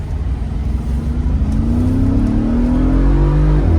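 A new car accelerates hard from inside the cabin, the engine note rising smoothly and steadily in pitch with strong, continuous pulling power, loud and close.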